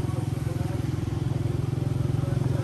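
A motorcycle rides slowly through deep river water, its engine putting out a steady low, rapid thrum close by with some watery splashing.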